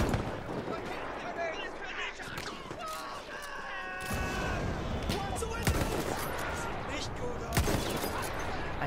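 Gunfire from the Battlefield 1 video game, with sharp shots and bursts scattered across a dense battle din, a player talking over the fighting.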